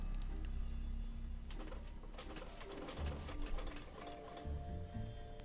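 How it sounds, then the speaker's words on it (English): Clicking, ratcheting clatter of the porridge machine's gears being tinkered with in the Wallace & Gromit: Project Zoo video game, busy mechanical rattling alone with faint game tones. "That's the porridge machine"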